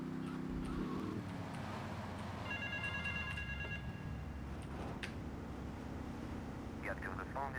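A payphone rings in Grand Theft Auto III as a short steady electronic trill in the middle of the stretch, over continuous game noise and a talking voice.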